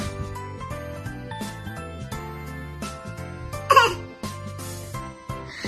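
A baby makes short, forceful imitation coughs over a tinkling music-box tune, with one louder throaty burst in the middle.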